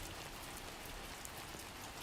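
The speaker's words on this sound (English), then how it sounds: "So it's called timefall rain." Timefall rain from the game Death Stranding 2 falls as a faint, even patter of many drops, steady and quiet with no voices.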